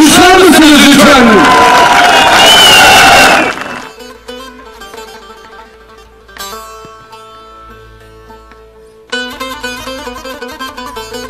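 A big outdoor crowd at a municipal election victory celebration in front of the Ankara city hall applauds and cheers loudly for about three seconds, then the noise drops to quieter background sounds with a later swell of crowd noise.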